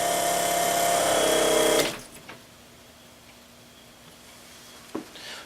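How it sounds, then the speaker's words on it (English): A diaphragm pump runs with a loud buzzing mechanical drone for about two seconds, then cuts off abruptly, leaving quiet background with a faint hum and a brief click near the end. "you can see that the pump ramps up to about 130 or 40 psi"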